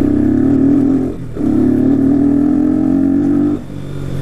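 A 250cc motorcycle running without an air filter revs loud and close in a steady, rough drone, dips briefly twice, then climbs back up.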